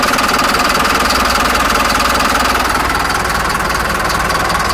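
A Mercedes Vario diesel engine runs loud and close just after starting, with a steady, rapid knocking clatter at idle and no pauses.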